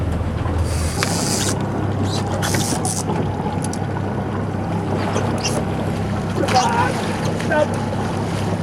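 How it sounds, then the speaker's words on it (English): Fishing charter boat motoring on open water, a steady engine drone mixed with wind buffeting the microphone and splashing waves, with brief voices faintly audible. "Slow the boat down."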